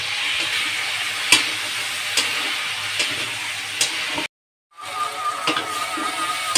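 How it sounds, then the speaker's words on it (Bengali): Ripe tomato sautés in spice masala for a rui fish bhuna, giving a steady hiss of frying broken by spatula taps and a brief cut to silence before the sizzle resumes. "আমি মশলার মধ্যে দিয়ে টমেটো কষিয়ে নেব"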